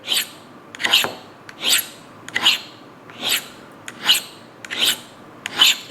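A knife blade is drawn across the stones of a Lansky Turn Box sharpener, about eight even rasping strokes in a steady back-and-forth rhythm, close and clear with no speech.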